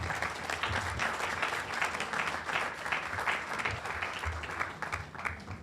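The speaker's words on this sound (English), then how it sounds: "Please give Rick another round of applause" A dense, steady round of applause from an audience at a Tiger Bay of Manatee luncheon on animal welfare, many hands clapping together at moderate loudness, holding level for several seconds before easing slightly.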